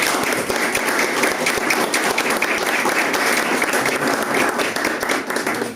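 A congregation at a Sunday church service claps together in loud, continuous applause with a brisk, even texture that lasts throughout.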